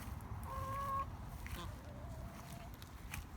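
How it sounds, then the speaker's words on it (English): Chickens cluck softly among ducks on a farmyard straw floor, a few short calls over low background rumble and faint voices. "Lots of chickens and ducks, friends."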